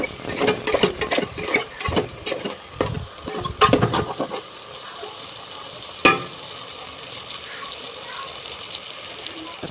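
Dried fish and potato curry is stirred in a pan, with rapid scraping and sizzling strokes for about four seconds, then a single clink and a quiet simmer.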